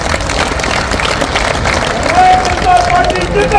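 A large crowd at a political rally bursts into sustained applause and cheering, a dense, even wash of clapping with babble of voices mixed through, swelling slightly toward the end.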